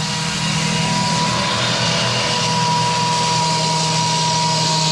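A loud, steady saw grinds through a concrete retaining wall block outdoors on a building site, one continuous harsh whine with no break for its whole length.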